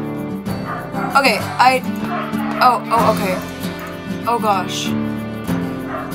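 Pet dogs bark and yip in short bursts close to the microphone, repeated through the stretch, while a person talks over them in a home setting during gameplay.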